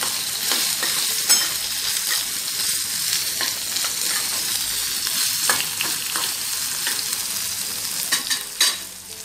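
Potatoes with salt being mixed in a frying pan for potato pickle, a steady loud sizzle with repeated scraping strokes of a spoon, a few firmer clanks toward the end, no voices.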